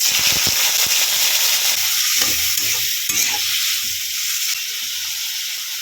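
Shrimp rubbed with salt and turmeric fry in hot oil in a wok, giving a steady, loud sizzling hiss with occasional stirring clatter, heard alone without talk.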